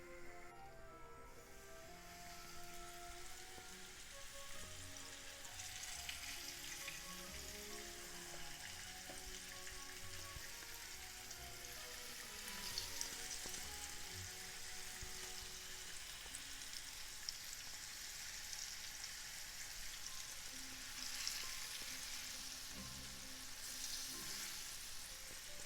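Floured carp pieces fry in a pan over maximum heat, a steady dense sizzle and crackle continuing evenly throughout, with faint clinks now and then and no talking.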